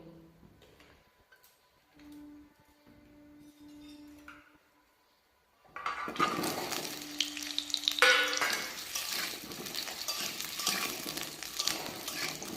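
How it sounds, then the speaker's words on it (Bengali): Potatoes hit hot mustard oil in a wok, bursting into loud, close frying and crackling after a few quiet seconds of faint clinks and handling, then sizzling steadily to the end. "কিছুটা সর্ষের তেল দেবো, দিয়ে আলুগুলোকে ভেজে নেব।"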